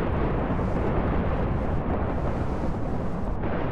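A thunderstorm in the Minecraft video game rolls as a steady, loud, broadband roar of rain and rumbling thunder, continuous throughout with no voices over it.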